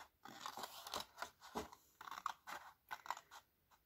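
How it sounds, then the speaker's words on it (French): Scissors snip through folded paper while crafting an easy Easter or Mother's Day gift basket, producing a close, irregular series of crisp cuts and crunchy paper rustles with brief pauses between strokes. "on se met sur le deuxième pli et on coupe tout droit"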